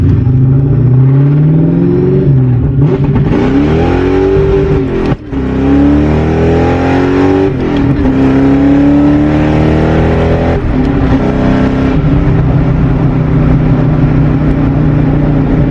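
A loud Ford Mustang GT engine revs hard through rising pulls, roaring up and dropping between gear shifts, close and dominant throughout.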